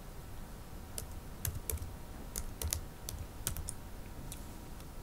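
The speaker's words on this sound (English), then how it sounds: "Let's type Microsoft Office." Keys clacking on a computer keyboard, typed in short uneven bursts of separate taps over a quiet room hum, no voices.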